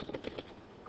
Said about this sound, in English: Go up to the destination path and type in Insight